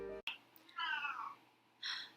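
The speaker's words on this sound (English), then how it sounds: "The cat." A pet cat meows twice in a quiet room, a drawn-out mew followed by a shorter second call after a pause, close and clear with no talking.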